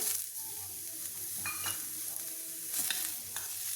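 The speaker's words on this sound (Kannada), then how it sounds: "ಈಗ ಟೊಮೊಟೊ ಹಣ್ಣು ಸಾಫ್ಟ್ ಆಗೋ ತನಕ ಮತ್ತೆ ಫ್ರೈ ಮಾಡ್ಕೊಬೇಕು" Onion and two chopped tomatoes fry in a pan, a soft, continuous sizzle with occasional spoon stirs and light scraping clinks close by.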